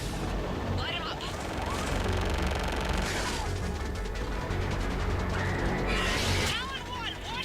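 Air support opens fire on ground targets in Mass Effect 3 during the fall of Thessia: sustained rapid gunfire and rumbling bursts run throughout, loud and continuous, with voices speaking over the barrage.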